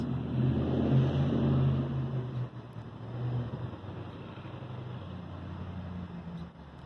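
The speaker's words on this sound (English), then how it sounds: "Some of these cars can become quite loud as they're driving past." A car rumbles past fairly close, the engine noise swelling and then fading, with more traffic hum trailing behind.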